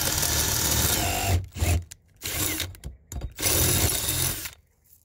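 A step drill bit boring through metal while fitting wheel upgrades on a 1961 Airstream Bambi trailer, loud close whining bursts in three main runs separated by short pauses, the last cutting off abruptly.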